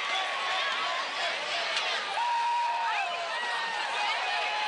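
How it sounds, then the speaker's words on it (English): Gym crowd at a Thursday night high school basketball game, Walton vs Wheeler, a steady indoor murmur of many voices with scattered shouts and squeaks, loud and continuous for the whole stretch. "Pete, doggone good crowd for a Thursday night."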